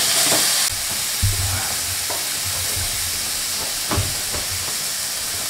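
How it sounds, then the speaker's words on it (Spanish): Onion fries in hot, boiling oil with a loud, steady sizzling hiss throughout, broken by occasional stirring clatters and scrapes close by. "Tengo aceite hirviendo, le vamos a poner un poco de cebolla."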